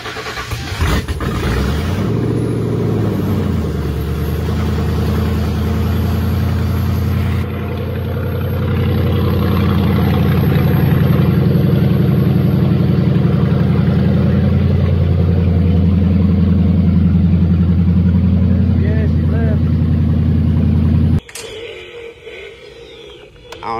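A Ford Crown Victoria LX Sport engine cranks over at the turn of the key, catches and settles into a loud, steady idle close by, rising slightly midway before cutting off near the end.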